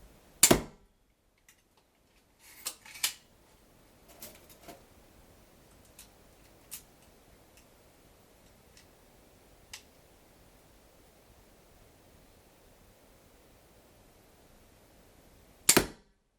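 An 80 lb crossbow loosing arrows into chicken breast, with sharp isolated snaps at the start and end and faint scattered clicks between, in a quiet setting.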